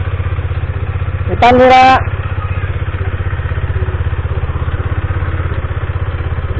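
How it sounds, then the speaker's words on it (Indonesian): Engine of a Husqvarna Svartpilen motorcycle, steady loud throbbing idle or low-speed running throughout, with a brief voice over it. "kedengaran suara mesinnya berisik banget"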